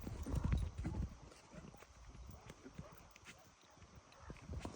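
A young colt, a stallion offered for sale in the village of Volosiv, runs about with a quick, close clip-clop of hooves that is loudest at the start, while faint voices murmur underneath.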